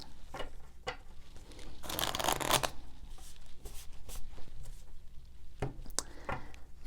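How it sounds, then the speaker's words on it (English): Tarot cards being shuffled in quick bursts, with a dense riffling flurry in the middle and softer scattered flicks around it, close by and fairly quiet. "Working harder is not going to help me shuffle these cards any faster."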